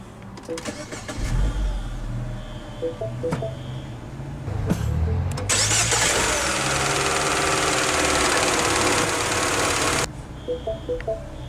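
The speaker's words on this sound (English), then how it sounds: "let's go ahead and start the engine. And it does have push button start." A 2014 MINI Cooper Convertible engine cranks and fires up by push-button start with a burst of noise after a few clicks, then settles into a steady running hum before cutting off.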